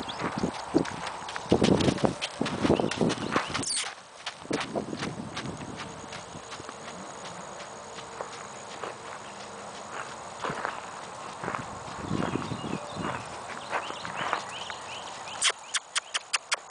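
Horse hooves clip-clopping on ground in a rhythmic cantering gait, moderately close, with steady repeated thuds and occasional snorts, some distant background sounds throughout.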